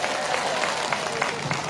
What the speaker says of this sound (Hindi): इसके लिए एक बार जोर से ताली बजाइए।